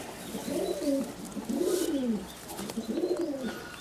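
Madrasi Kalanka pigeons give three soft, rolling coos in a gentle rhythm, close by but quiet, with faint background noise between them.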